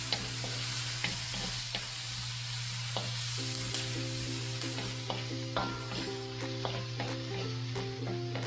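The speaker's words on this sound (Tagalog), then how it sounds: "Kailangan igisa natin para hindi po siya malansa." Bagoong alamang (shrimp paste) sautéing with onions in a pan, a steady low sizzle under repeated scraping and stirring taps of a utensil, close and moderately quiet, with no talking.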